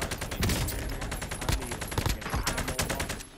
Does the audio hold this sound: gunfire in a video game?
yes